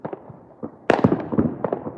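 New Year's Eve fireworks at midnight in Texas, heard from a balcony: a quick run of sharp pops and crackles, quieter at first, then a louder burst of overlapping bangs, fairly close, with no talking.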